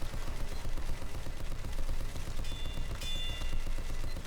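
Sustained rapid gunfire in Team Fortress 2 during a Mann vs. Machine match, dense continuous shooting with game effects layered throughout, no talk.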